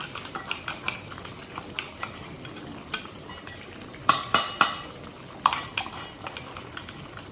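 A metal spoon stirs powdered masala into cooked potatoes in a pan, giving sharp clinks and scrapes at an irregular pace, with a few louder clatters midway over a faint sizzle.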